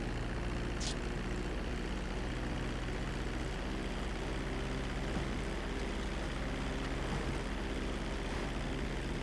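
A jet plane engine roars in GTA V with a steady, continuous drone, constant in loudness throughout and with no other sounds standing out.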